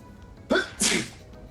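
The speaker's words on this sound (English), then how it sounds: "Bless you, whoever sneezed." A single loud, close sneeze bursts out in two quick gusts, a sharp intake-like onset followed by a longer breathy blast, with quiet background around it.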